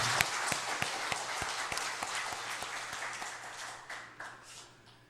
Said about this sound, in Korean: 3일 내내 수고한 경배와 찬양팀에게 우리 한번 격려의 박수를 주시면